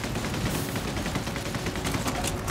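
Heavy gunfire from a powerful special weapon in the video game Solstice Chronicles: M.I.A., a dense, continuous roar of rapid shots and blasts that stays loud and close for the whole stretch without letup.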